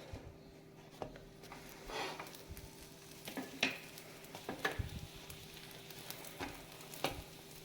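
Kulcha breads greased with ghee heat on a griddle, producing a faint steady sizzle punctuated by soft taps and scrapes from a spatula, quiet and close with no talking.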